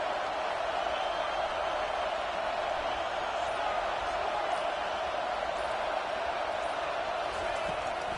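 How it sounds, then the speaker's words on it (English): A large stadium crowd at a college football game between Indiana and Texas roars steadily on third down, a dense, continuous wash of cheering and noise filling the whole stretch without letup. "Decibels rising as the crowd gets behind this defense on third down."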